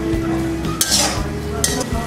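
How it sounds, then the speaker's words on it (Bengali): Dried shutki fish with kalmi greens stirred in a pan, soft scraping and a couple of light metallic clinks over a faint sizzle. "একটু নেড়ে ছেড়ে দিব।"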